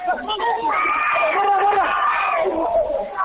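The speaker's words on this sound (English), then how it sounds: "And we can hear the crowd getting in behind them now" A rugby crowd at a Fiji under-20 versus Japan under-23 match roars and shouts in a sustained swell, with a commentator talking over the top.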